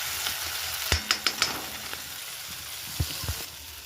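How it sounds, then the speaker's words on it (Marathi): Garlic and cumin frying in hot oil for a fenugreek and gram-flour dish, a steady sizzling hiss with a run of sharp spoon taps against the pan and a couple of louder knocks later, no voices. "लसूण आणि जिरे छानपैकी बॉईल होतात, तळत आहेत बघा"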